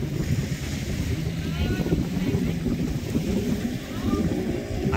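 A speedboat at sea off a Thai island gathers speed to tow a parasail, its engine roaring close under heavy wind buffeting and splashing water, steady and loud throughout while a voice is faintly heard.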